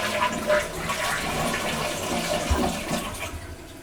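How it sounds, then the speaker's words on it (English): A newly installed Project Source elongated toilet flushes up close, with a steady rush and swirl of water draining and refilling the bowl. "That's like the 5th flush."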